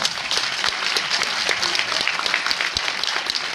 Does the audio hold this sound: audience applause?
yes